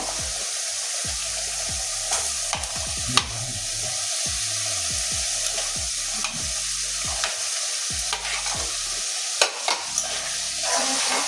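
Pointed gourd (potol) frying in hot spiced oil, a steady close sizzle broken by repeated scraping and stirring strokes and clattering spatula knocks, with no talking.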